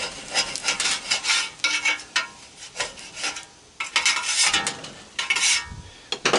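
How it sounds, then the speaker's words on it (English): A wire brush scrubbing dirty scrap aluminum in rapid, rough strokes that come in bursts with brief pauses, loud and close, with no talking. "I grab my wire brush. Try to get it cleaned up pretty good."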